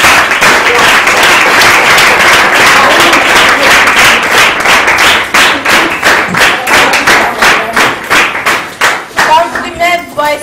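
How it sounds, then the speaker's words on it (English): A crowd of children and adults at a school event applauds loudly and continuously. The dense clapping close by thins into rhythmic, uneven claps near the end. "Clap for her."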